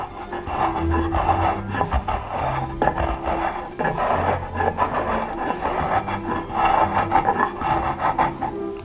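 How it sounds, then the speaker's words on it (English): A spokeshave smooths bandsaw marks off the wooden foot of a curved blockfront chest, producing repeated rasping, scraping strokes in a steady back-and-forth rhythm, close and moderately loud, with no talking. "I got room up here to work the spoke shave."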